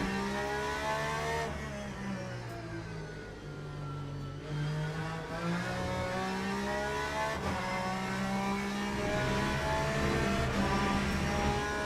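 A GTE race car in Le Mans Ultimate revs hard through the gears, its engine note rising and falling close up with a brief shift gap, tires faintly scrubbing through a corner.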